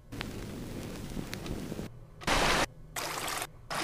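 A sampled water noise texture from the wavetable synth engine of a Liven Bass & Beats plays as a soft, bubbling flow, then gives way to several abrupt bursts of bright hiss that switch on and off in choppy blocks.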